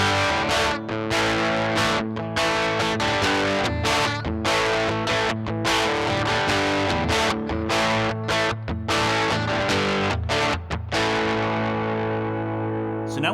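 Duesenberg Falken electric guitar played through heavy distortion with the bridge pickup split to single coil, loud chugging chords and riffs with sharp stops between phrases, ringing out at the end.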